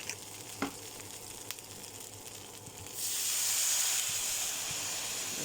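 Water and sugar hit a hot cooking pan, and a soft hiss swells into a steady, louder sizzle after a few quiet seconds with faint clinks.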